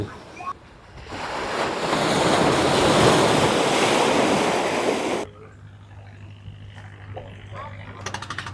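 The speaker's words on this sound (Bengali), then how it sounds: "সমুদ্রের কি বিশাল বিশাল ঢেউ" Big sea waves break at the Digha river mouth, a loud wind-buffeted roar of surf that swells, holds, then cuts away to quieter shoreline ambience.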